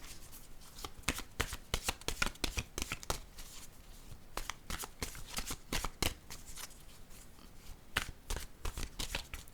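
Oracle cards are shuffled before one is drawn, a quick run of crisp riffling and slapping bursts, close and fairly quiet, repeating in uneven clusters with no talk over them.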